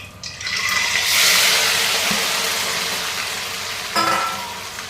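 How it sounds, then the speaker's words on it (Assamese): Cabbage, carrot and chilli vegetables fry in hot oil with a loud, steady sizzle lasting throughout, swelling briefly near the start and again toward the end as the pieces are stirred. "তেলখিনি গৰম হোৱাত মই এই গোটেই পাচলিখিনি ইয়াতে দি দিম।"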